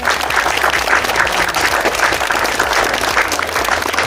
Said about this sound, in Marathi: सगळ्यांनी एकदा जोरदार टाळ्या वाजवायच्या आहे.